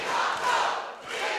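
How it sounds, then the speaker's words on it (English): A wrestling crowd at a WAW Wrestling show roars in a loud, sustained chant, the many voices blending into a dense wash that swells and dips slightly over a second and a half. "Another staple of an RKJ or a Roy Knight match is the "We Want More" chant."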